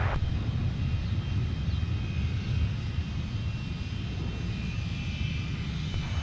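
Jet airliner taking off from a runway at MSP airport, a steady loud broadband engine roar with low rumble, constant and sustained throughout, no voices.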